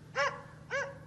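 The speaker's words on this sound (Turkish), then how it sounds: "Rafi, köpek avlıyor, duyuyor musun?" A hunting dog gives two short, clear barks about half a second apart, moderately distant against a low steady background hum.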